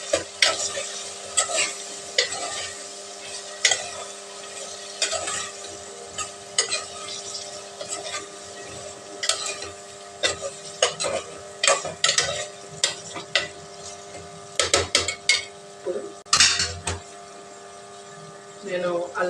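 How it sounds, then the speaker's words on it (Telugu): A spoon scrapes and stirs spices into drumstick sambar in a pot, with irregular clinks and scraping strokes over a faint background hum. "సరిపసుపు వేసుకున్నాక మొత్తం కలిపేసుకున్నాం"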